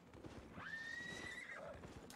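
A horse in the video game Albion Online lets out a single loud, close whinny that rises, holds and falls away over steady game background noise.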